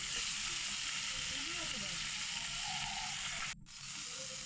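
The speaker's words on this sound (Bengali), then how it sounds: "প্রথমে হচ্ছে আমি মাথাটা সুন্দর করে ভেজে নেব।" A katla fish head fries in hot oil, a loud, continuous close-up sizzle that hisses steadily and briefly drops out for a moment near the end before resuming.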